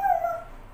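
A dog giving a short whimpering, howl-like cry, a single clear tonal call that starts loud, fades, then rises briefly again at the end.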